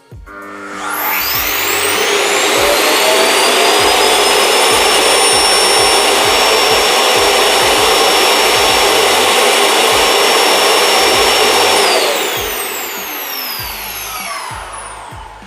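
A Proscenic M7 Pro robot vacuum dock emptying the bin: a loud, steady whooshing suction roars for about eleven seconds, then winds down to a lower hum, heard close with no talking.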